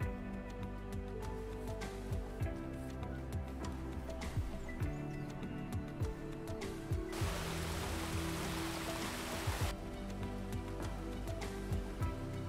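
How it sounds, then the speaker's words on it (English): Steady, soft patter of light rain outdoors, a diffuse hiss that swells briefly louder in the middle before settling back. "It's a little rainy and overcast"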